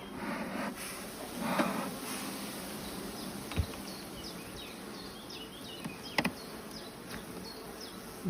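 Honeybees buzz around an opened beehive colony, a dense, continuous swarm hum close by with a few individual bees zipping past and occasional light knocks from handling the hive.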